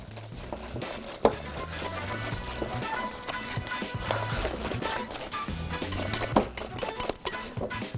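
Cake batter stirred in a bowl, a continuous scraping and knocking rhythm of a utensil against the bowl, fairly close and steady, with a sharper clack near the start and another toward the end.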